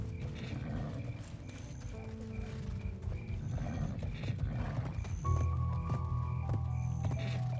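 A horse in the online game Black Desert Online neighs and whinnies over clip-clopping hooves and other game sounds, the neigh rising loudly near the end.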